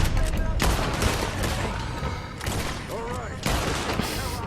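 Gunfire in the Western video game Red Dead Redemption 2, dense bursts of repeated shots cracking loudly throughout with brief gaps, mixed with game voices and background action.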